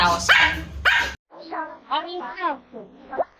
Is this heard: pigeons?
no